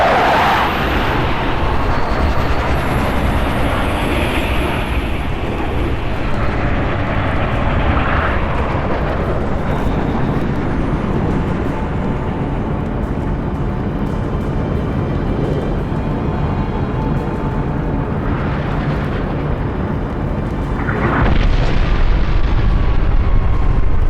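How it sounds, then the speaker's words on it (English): Longsword aircraft roar past and an orbital defense cannon fires in the Halo Reach video game, a loud, sustained wash of engine rumble and blast with swelling bursts near the end. "longswords are inbound and ready to push. Orbital defense is standing by to take the shot."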